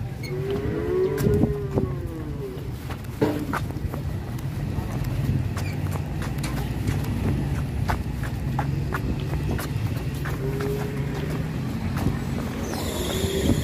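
A sick, bloated cow moos repeatedly in a parking lot, drawn-out calls rising over steady crowd chatter, footsteps and shuffling hooves nearby, with people talking throughout.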